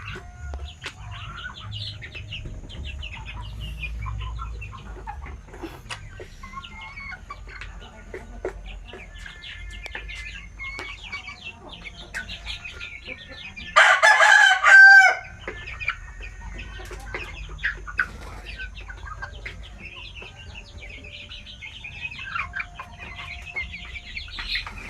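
Native chickens cluck and squawk steadily nearby, with a loud, brief burst of agitated fowl calling in the middle.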